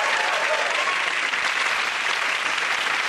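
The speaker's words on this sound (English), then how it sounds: "Give a round of applause." A dense, loud round of applause from a television studio audience, steady and sustained throughout with no talk over it.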